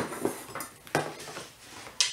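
Sliced onions dropped into a dish in a home kitchen for steak fajitas, giving a few soft thuds and light clinks of pieces and utensils against the bowl, close and quiet.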